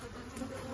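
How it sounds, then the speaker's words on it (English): Honey bees buzz around an open hive in a soft, steady drone, faint and continuous with no voices. "There's too many bees around."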